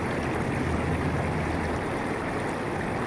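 Steady rushing, gurgling water washing through a recon gold sluice over its riffles, a continuous close flow with no talk.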